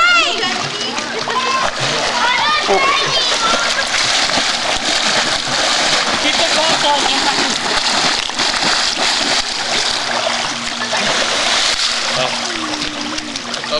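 Loud outdoor water play at a cliff-side swimming spot in Missouri, with repeated splashes and splattering water under constant excited voices and children's shouts throughout.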